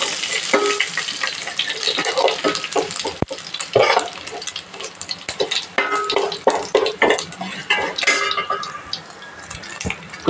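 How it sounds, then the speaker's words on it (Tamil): Cumin and fennel seeds splutter and crackle in hot oil for a fish curry, with dense sizzling mixed with the scrape and clatter of a spoon stirring in the pan. "இப்போ சீரகம் சோம்பு பொரிஞ்சாச்சு"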